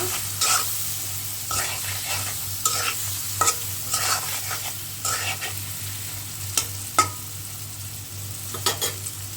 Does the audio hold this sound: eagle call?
no